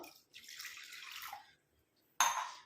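Water splashes and trickles into a container in two short pours separated by a brief silence, fairly close and soft.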